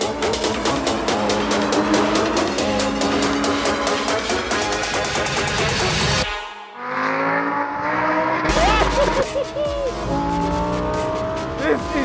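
A Lamborghini Huracan STO leaves the pit lane at the Buddh International Circuit with a loud, high-revving engine that climbs through the gears, then briefly drops off before roaring again. Tire squeal and wind noise can be heard along the way.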